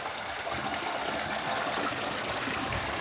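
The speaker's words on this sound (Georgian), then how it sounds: "ნახეთ როგორ ჩუხჩუხებს წყალი." Water gurgling and bubbling steadily in a wood-fired wooden hot tub, a continuous close, soft rushing trickle with no voices.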